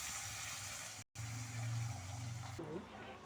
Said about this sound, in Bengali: এবার অল্প জল দিয়ে দেবো